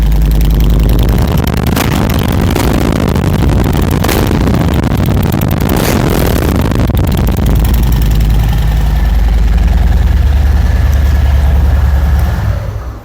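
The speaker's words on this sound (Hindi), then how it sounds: "मोटरसाइकिल का मैं आपको साउंड भी सुनाऊंगा थोड़ा सा" A Harley-Davidson Fat Bob 114 with S&S exhaust idles at night, a deep, loud, throbbing rumble with a few sharper blips early on before dropping off at the end.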